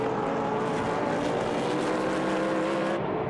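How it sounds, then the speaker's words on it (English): GT1 race cars sweep through turn two at the Nürburgring during a qualifying race, their engines a continuous loud, high-revving roar that fills the whole clip without pause. "Into turn two, you see de Moustier taking a different line through there, a wider line in"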